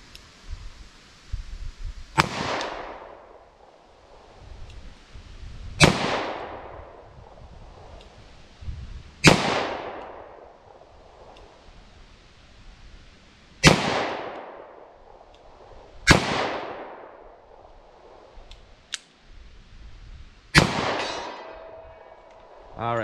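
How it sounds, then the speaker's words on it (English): A 10mm Auto pistol fires Freedom Munitions X-DEF rounds at a 75-yard target outdoors: six loud, sharp reports spaced several seconds apart, each trailing off in a long echo, with quiet rustling between shots. "let's see what I can do with our 10 millimeter here at 75 yards"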